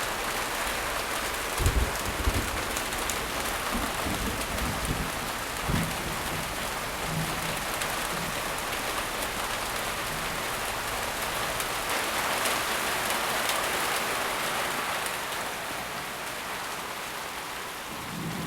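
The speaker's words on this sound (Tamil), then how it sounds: "மழை குறைஞ்சதுக்கப்புறம் போகலாம்." Heavy rain pours down steadily and densely, a loud, continuous wash of falling water with occasional low rumbles like distant thunder and no voices.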